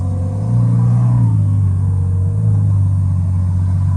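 A 2016 Ferrari F12 Berlinetta V12 fitted with an FI exhaust idles with its valve off, a loud, steady deep rumble with a slight swell in revs early on, close by and alone.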